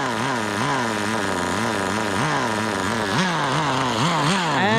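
Small nitro engine of a Kyosho Ford RS500 RC car idling after a lean-running fix, a steady close buzzing drone that wavers and surges slightly in pitch throughout.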